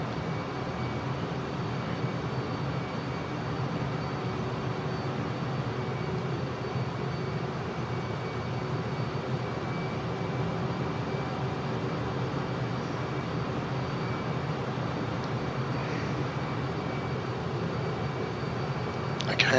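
Steady, unbroken engine roar of a Su-57 Felon jet cruising slowly over hills and a dam near Merimbula, New South Wales, in Microsoft Flight Simulator 2020, droning evenly from start to finish with no talking.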